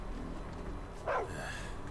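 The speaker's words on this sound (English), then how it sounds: "Ah, it is a dog." A dog in the video game Final Fantasy XVI gives a single short bark over a quiet ambient game background, fairly close and moderate in level.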